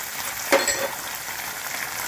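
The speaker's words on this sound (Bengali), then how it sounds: "পেঁয়াজটা একটু ভাজা ভাজা করবো।" Onion paste fries in a pan, a soft continuous sizzle with one brief louder crackle and stir, quiet and close.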